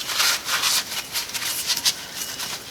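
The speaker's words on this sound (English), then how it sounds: "I'll wipe that off with a rag just to get the excess rust out" A rag rubs rust off a Honda Civic rear brake part, close and loud: quick repeated scrubbing strokes in an uneven rhythm, with no voices.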